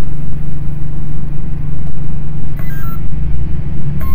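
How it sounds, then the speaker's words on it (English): A constant low hum from an electric feed system motor runs throughout, broken near the end by a couple of short, high electronic beeps. "you should hear the motor beep and once and then it'll start beeping again"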